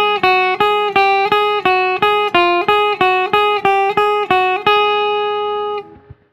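A beginner's guitar exercise picked with a plectrum, about a dozen clear single notes in an even steady rhythm, close and loud, with the last note left ringing out before it fades to silence.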